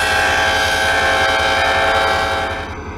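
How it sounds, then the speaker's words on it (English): A loud, steady horn from a model SLRG E8 locomotive blares continuously, then trails off toward the end. "Here is the horn."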